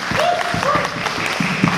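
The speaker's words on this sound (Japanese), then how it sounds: "一度大きな拍手を。" Live audience applause at an outdoor 30th-anniversary concert at Sumiyoshihama Resort Park, a steady wash of clapping over about two seconds with faint voices mixed in.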